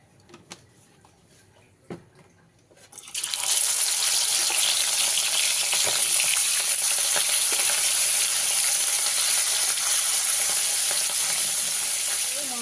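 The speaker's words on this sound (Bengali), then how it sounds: "মাছটা ভেজে নেব তার জন্য কড়াইতে সর্ষে তেল দিয়ে দিলাম" Near silence with a couple of soft knocks, then a loud, steady sizzle erupts as fish hits hot mustard oil in a wok, hissing and crackling continuously to the end.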